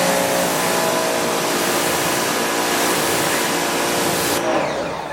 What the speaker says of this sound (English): So we'll go ahead and power wash that anyway.